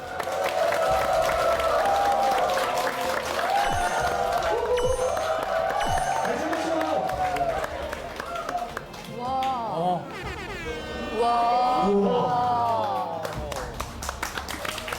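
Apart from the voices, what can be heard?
standing ovation applause from an audience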